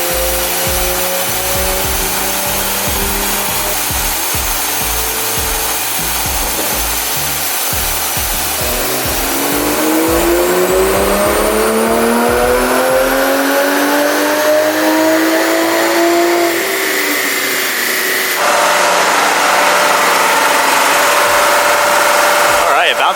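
A Toyota A90 Supra on a chassis dyno is run hard through the gears, its engine climbing in long loud rising pulls with brief shifts between, then winding down to a whine, close and continuous without talk.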